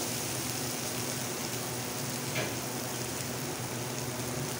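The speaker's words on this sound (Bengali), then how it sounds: "ভালো করে মিলিয়ে নিচ্ছি।" Chana dal tadka with spices being stirred and frying in a pan, a steady close sizzle with soft scraping, no talk.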